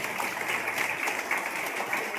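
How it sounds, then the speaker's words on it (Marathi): Steady, dense applause from an audience at a gathering honouring a former soldier, a continuous patter of many hands held at moderate level throughout. "दोघांच्या नावाने जोरदार टाळ्या होऊन जाऊ द्या"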